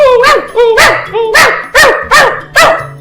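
A dog trapped in a burning car barks repeatedly and loudly, about six sharp yelping barks in quick succession, close by with whimpering tones.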